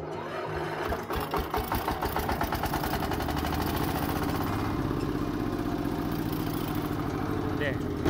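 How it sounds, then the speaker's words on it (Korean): A power tiller engine cranks and catches, then settles into a steady, loud, rapid single-cylinder chug that runs continuously as it sets off carrying a water tank on a farm. "경운기 시동을 걸고"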